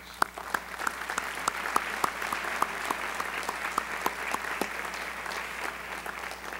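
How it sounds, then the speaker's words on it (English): An audience applauds at a school district gathering, a fairly faint, steady patter of clapping with a few sharper individual claps standing out over several seconds. "you deserve a round of applause"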